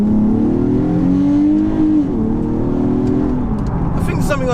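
A modified Nissan 370Z drones along in steady acceleration, its engine tone climbing and then dipping at a gear change before pulling again, close and continuous throughout.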